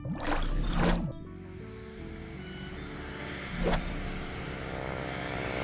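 A propeller airplane drones steadily throughout, its engine tone holding level with brief louder swells near the start and middle.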